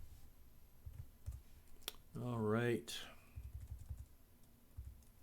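Computer keyboard keys pressed in short bursts for copy and paste shortcuts while building a Lazarus and Free Pascal GUI application, close and fairly faint, broken by a brief spoken remark.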